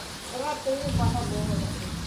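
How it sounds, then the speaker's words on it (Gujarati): Steady hiss of heavy rain falls throughout, with voices speaking over it near the start. "બા વરસાદ આવ્યો"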